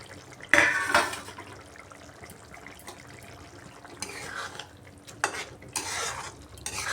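A lid lifted off a pot of boiling potatoes for Bengali fish-head kanta chorchori makes a sharp metallic clatter near the start, followed by bubbling and occasional clinks of cookware, with no talking.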